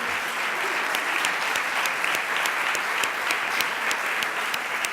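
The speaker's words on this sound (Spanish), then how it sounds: "pido que se le dé un aplauso a todos ellos" Steady, dense applause from a crowd, continuous clapping at an even level throughout.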